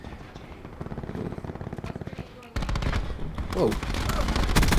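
Rapid gunfire from the KAP 45 pistol in Black Ops 4, with fast repeated shots in a quick stream that swells louder halfway through, heavy and dense, with a brief exclamation from a voice.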